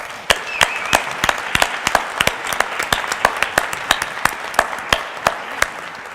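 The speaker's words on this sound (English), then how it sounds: "So let's give everybody a round of applause." Audience applause at a mayoral debate with many hands clapping steadily at a moderate distance, sharp individual claps standing out over the dense patter.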